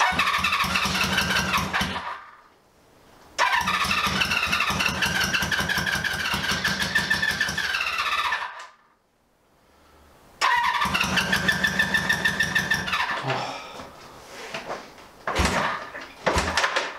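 A 1978 cafe scrambler motorcycle engine cranks and catches in loud bursts, revving hard, cutting out into brief silences, then firing up again with rattling mechanical noise.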